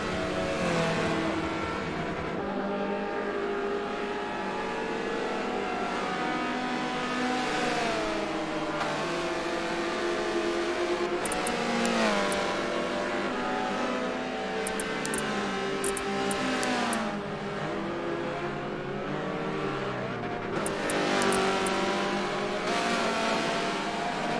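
Race cars in Forza Motorsport's Spec series, one of the slower classes, roar steadily through the whole stretch, with engines rising and falling as they rev and shift, several cars close together, loud and continuous without talk.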